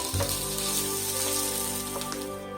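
Grated coconut and curry leaves frying in a pan for a quail egg masala curry, a steady close sizzle with a faint hum beneath it.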